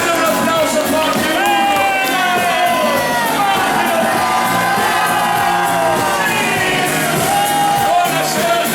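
A live concert crowd cheers, whoops and claps loudly and continuously for a singer at an outdoor show in Bressanvido, with music tones running underneath the noise.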